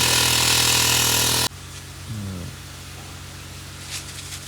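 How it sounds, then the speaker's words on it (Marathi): Engine of an orchard pesticide spraying machine runs loud and steady for about a second and a half, then cuts away to a quieter, fainter mechanical hum with a brief low rumble. "त्यांनी मशीन पण चालू केली आहे आणि आत्ता ते फवारायला चालू करतात"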